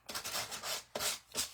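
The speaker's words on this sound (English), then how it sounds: "So I'm going to take my sander and just rough this up a little bit." A sander roughing up the surface of a handmade card, giving a few close scratchy rubbing strokes with short gaps between them.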